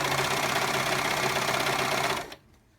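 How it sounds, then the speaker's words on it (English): Serger sewing machine stitching blue fabric, fast continuous close whirring that stops abruptly near the end and leaves quiet. "Now that I'm to the end, with a serger, you need to serge your way off."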